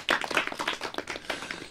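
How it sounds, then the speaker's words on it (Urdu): A studio audience on a Pakistani children's radio show claps for the parents, a dense burst of many hands applauding close by for under two seconds, with no talk over it. "تو جناب ان کے لیے تو تالیاں ہو گئی ہیں"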